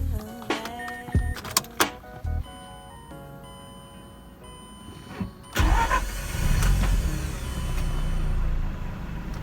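A 131,000-mile Mazda RX-8 R3 rotary engine cranks with a few sharp clicks, then catches and settles into a low, rumbling idle, fairly faint and close, with no talking.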